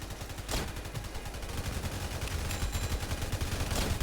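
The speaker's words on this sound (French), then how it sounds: "Maintenant on va poser les miniguns à balles." Bullet minigun turrets fire in a video game, a dense continuous rattle of rapid automatic shots with a few sharper bursts, loud and steady throughout.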